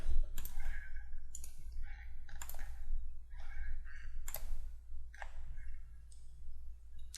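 Computer mouse clicks while right-clicking on a file, several sharp, distinct clicks spaced irregularly over a steady low electrical hum, close up with no talking.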